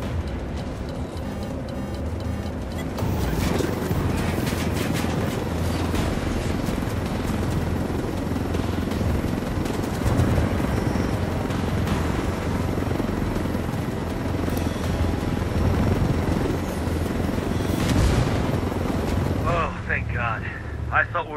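Helicopters in the video game Ghost Recon Wildlands, a dense, continuous rotor roar with gunfire and explosions layered over it, loud throughout while a voice talks over the din.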